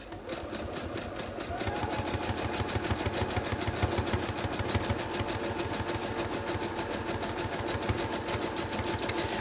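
Sewing machine stitching down small fabric strips glued in place for craft page embellishments, a steady rapid mechanical whirr with clear needle-beat rhythm running continuously and loud, with no talking.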